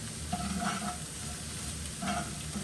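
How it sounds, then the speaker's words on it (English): Sliced aubergines with a pinch of salt fry in a pan, giving a steady close sizzle with occasional soft stirring scrapes and no talk. "I'm just going to allow those fry up there for about 5 or 6 minutes."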